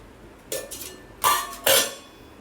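Desiccated coconut powder and milk powder being mixed in a bowl for a sweet; three or four close clinks and scrapes of a utensil against the bowl, each short and bright, with no talking.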